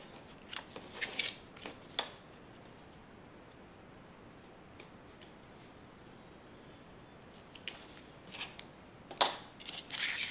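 Scissors snip through excess paper trimmed from a tab on a vintage-style junk journal page, a few close, crisp cuts clustered near the start and again near the end, separated by a quiet stretch.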